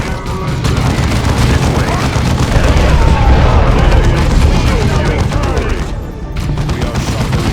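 Dense incoming fire and explosions in the Warhammer 40K strategy game Dawn of War 2, a loud continuous barrage of rumbling blasts and gunfire with a brief dip near the end and a short voice line over it.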